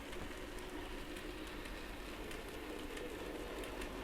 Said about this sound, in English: we've got 3 trains running around on 3 different lines